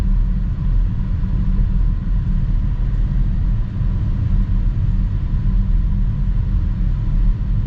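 A 2025 BMW X5 plug-in hybrid driving, heard from inside as a steady, loud low road and engine rumble with constant tire noise and no breaks.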